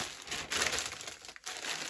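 A large plastic parcel bag is torn open by hand without a knife, giving a short burst of loud, close crinkling and ripping plastic.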